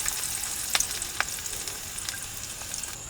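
Chopped small shallots fry in hot coconut oil, a steady close sizzle with bright crackling pops and a few sharp spits scattered through, and no voices.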